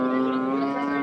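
A crossbred cow bellows a long, steady moo at a cattle market in Ambari, loud and close, with a sustained tone holding through the whole call and no talk over it.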